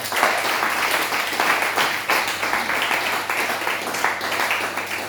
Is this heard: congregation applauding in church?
yes